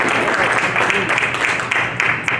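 A church congregation applauds steadily and densely throughout, a continuous wash of many hands clapping with voices mixed underneath.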